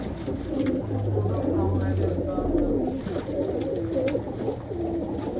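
Fauji Dhamot breed pigeons coo repeatedly in low, throaty, rolling calls, close by, while someone talks over them.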